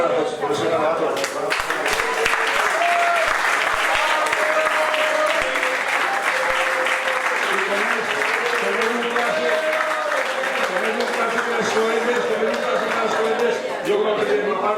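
Applause fills a veterans 11-a-side football league closing meal: steady, dense clapping from a crowd that holds up throughout, with voices and chatter mixed in underneath.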